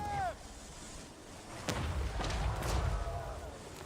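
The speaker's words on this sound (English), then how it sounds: "Cannons! Fire!" Cannon volleys in a Warhammer-style battle strategy game, heard as a few booming thuds about a second apart over a dense rumbling battle bed, with a shouted voice at the very start.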